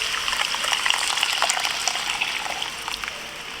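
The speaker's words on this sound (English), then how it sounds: "We'll add 2 cups of hot water." Two cups of hot water pour into a pot of Trinidad curry shrimp and pigeon peas, a steady, loud gushing splash running throughout with no talk over it.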